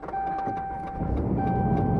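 A truck's ignition switched to accessory sets off a fast, faint ticking of clicks that runs steadily over a low engine-like hum and a constant thin electronic whine inside the cab.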